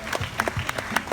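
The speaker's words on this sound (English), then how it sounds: "let's give him a big round of applause." Audience applause at a Dreamworld tiger show, a short burst of clapping from the crowd with a few louder individual claps standing out.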